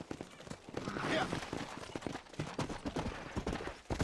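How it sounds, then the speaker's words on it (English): A donkey's hooves clip-clop in Red Dead Redemption, a quick, uneven run of hoof strikes at moderate distance, with game ambience and a voice talking over it. "Nice donkey."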